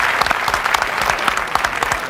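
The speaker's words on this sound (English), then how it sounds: "Oh, you can clap." Studio audience applause fills a live daytime talk show, a steady dense clapping that carries for about two seconds with no talk over it.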